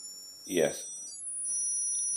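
An ultrasonic therapy device gives off thin, high electronic tones that hold steady and then shift to a new step partway through, faint and close, after a brief voice.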